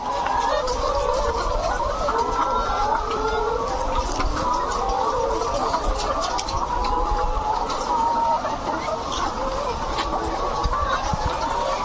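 Layer hens in an egg farm, a dense, constant chorus of clucking and murmuring from many birds close by, with continuous cage rattle and no clear talk.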